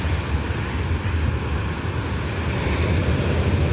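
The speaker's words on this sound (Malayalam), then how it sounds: "നാം ഈ കാണുന്നത് ശംഖുമുഖത്ത് കടൽ കയറി ശോഭിച്ചിരിക്കുന്ന അവസ്ഥയാണ്" Sea waves surge ashore at Shanghumukham beach during a swell, a steady loud roar of surf with wind noise across the microphone throughout, no voices.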